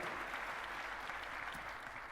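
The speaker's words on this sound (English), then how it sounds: "Round of applause, Tanya." An audience at a European radio conference breaks into steady applause, a dense even patter of clapping hands heard alone at moderate volume.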